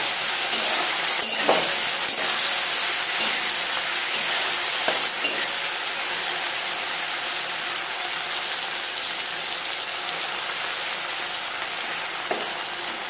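Green chilies and chopped ginger frying and being stirred in a pan for a vegetarian matar paneer, a steady close sizzle with occasional faint scrapes and taps of the spoon, no voices.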